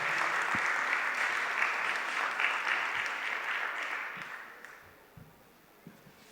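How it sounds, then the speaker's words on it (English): A festival audience applauds steadily for the speakers at a literature event, a dense clapping wash that gradually thins and dies away into quiet room tone. "Can we again give a huge round of applause for them, please?"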